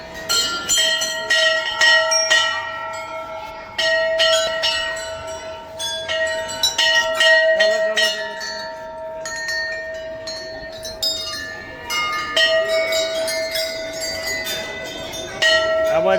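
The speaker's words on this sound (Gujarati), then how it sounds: "ઘંટડીઓ" Temple bells ring repeatedly, with sustained metallic tones and frequent fresh strikes that overlap, loud and close, while a few voices murmur faintly in the background.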